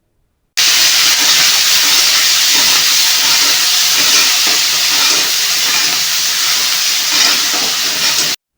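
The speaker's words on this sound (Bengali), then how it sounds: "মশলাটাকে কষাতে হবে" A paste of ginger, green chilli, garlic and onion sautés in hot oil. It gives a loud, dense hiss that starts suddenly and holds steady for several seconds, with a faint crackle underneath and no talk.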